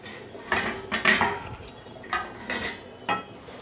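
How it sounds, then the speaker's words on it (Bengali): A metal lid comes off a cooking pot of vetki fish-bone chorchori with vegetables, giving several close, bright metallic clanks and scrapes in quick succession. "এবার ঢাকা খুলে আমি দেখব।"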